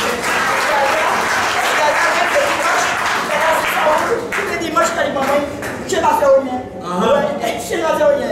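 A church congregation at a healing service applauds and cheers in a sustained, dense wave of clapping. Voices rise through it and lift again toward the end.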